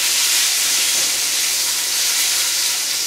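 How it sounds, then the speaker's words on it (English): Filet mignon sizzling and spitting in butter in a hot pan, a steady, close, loud hiss that holds unbroken for the whole stretch with no voices over it. "I'm dousing it with the butter. Don't you love that sound of food cooking?"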